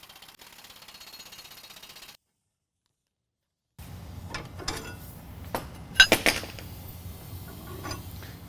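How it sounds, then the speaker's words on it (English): Wrench work on the U-bolts of a 2016 Chevy Silverado 1500 during a lift kit install: a steady mechanical whir, a short silence, then clanking metal knocks and sharp clinks, close and moderately loud. "now we're going to use the 21 millimeter to loosen and remove the U-bolts from one side only"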